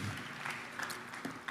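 An audience applauds at a shareholder meeting, with a steady, fairly faint wash of clapping from a large crowd in a big hall and no voices over it.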